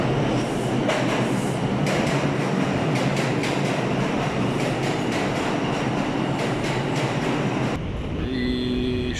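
A New York City subway train rumbles steadily on the rails near Queens Plaza, with a dense roar, rhythmic clatter and a squealing, tonal whine near the end as it slows, no talk.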